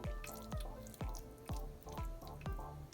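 Whey drips steadily from homemade Ethiopian cottage cheese (ayib) straining in a sieve, giving six evenly spaced, close, clear drips about half a second apart.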